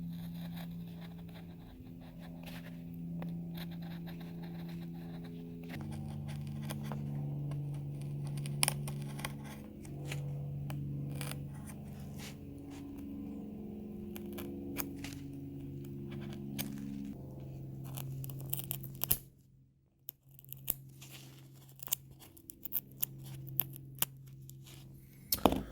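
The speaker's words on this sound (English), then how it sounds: "Let's get our X-Acto knife and cut this slot out." X-Acto knife cutting a slot through the carbon fiber skin of a Vertigo F5J glider's tail for the rudder horn: faint, intermittent scraping and ticking cuts over a steady tonal musical background, with no talking.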